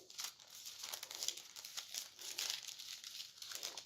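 Thin pages of a paper Bible are turned and flipped, giving soft papery crinkles and rustles in a quiet room, close and delicate, with no talk.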